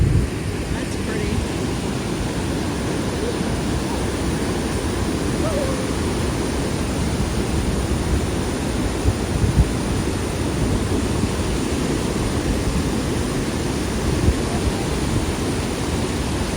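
Steady broadband roar of Niagara's Horseshoe Falls with its mist, a continuous rushing wash of falling water heard up close, loud and unbroken throughout.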